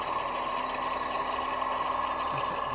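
An HO scale White Pass and Yukon GE diesel locomotive model with sound electronics hums steadily at close range, a constant engine drone with a faint idling rumble and no voices over it.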